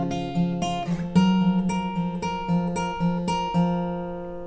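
Acoustic guitar fingerpicking, the thumb striking the fifth string to open each chord, with ringing chord tones and steady, evenly spaced plucked notes, close and unaccompanied.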